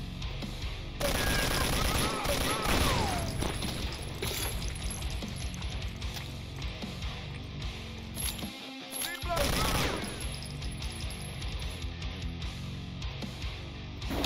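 Sustained gunfire in the shooter Brutal Wolfenstein, continuous loud bursts of automatic shots with a brief lull near the middle, mixed with game effects and music, with someone talking over it.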